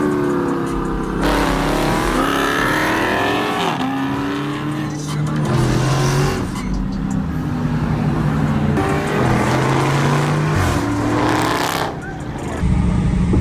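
An Infiniti G37 and a Scat Pack race, engines revving and shifting through gears with some tire squeal, loud and close, while people talk and shout over the noise.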